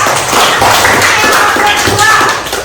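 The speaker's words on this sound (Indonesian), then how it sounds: "Ayo tepuk tangan buat Dila" A classroom of children claps for a classmate, a dense burst of hand claps filling the moment, loud and close, with some voices mixed in.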